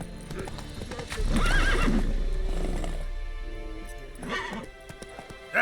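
Roach, Geralt's horse in The Witcher 3, gallops with loud, steady hoofbeats that pound through the middle of the scene, a whinny rising near the end as a voice briefly calls out.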